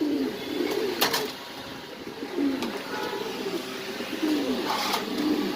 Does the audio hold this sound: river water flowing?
no